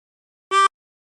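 A brief blow note on hole 7 of a 24-hole tremolo harmonica, lasting under a fifth of a second, reedy and harmonic-rich, sounding alone.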